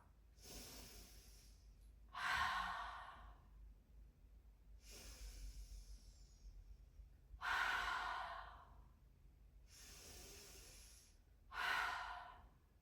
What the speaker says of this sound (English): We're going to inhale through our nose and forcefully exhale through our mouth.